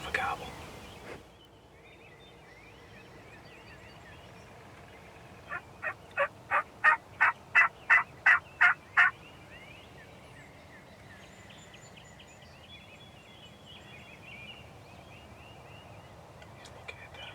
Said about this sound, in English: maybe even catch a nap and wake up to the sound of a gobble.